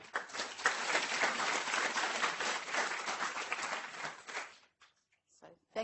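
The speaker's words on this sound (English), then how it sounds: "I'd like to give her a warm round of applause" Audience at an academic conference applauding a speaker in a hall, a dense sustained wash of many hands clapping for about four and a half seconds, then fading to a few scattered claps and near silence.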